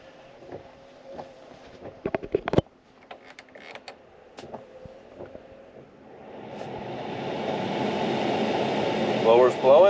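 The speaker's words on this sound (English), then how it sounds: "Blower's blowing. Various speeds work." Mechanical clicks and creaks inside a 2010 Mercury Grand Marquis Ultimate Edition, then the heater blower fan whooshes up to a steady, rising rush of air that continues to the end.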